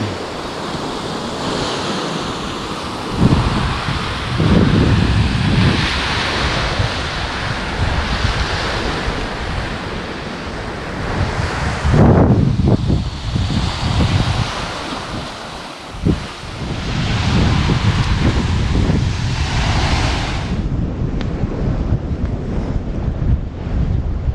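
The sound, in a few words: waves and wind on a Cape Cod beach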